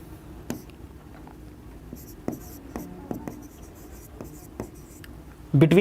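A teacher writing on a board during a physics lesson, with sparse, irregular marker or chalk taps and strokes over a quiet room, then a louder burst at the end.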